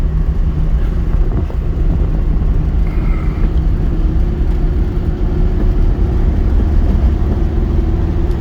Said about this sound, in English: I'm in third gear now, going about 35 miles an hour, and you can just cruise all day long in third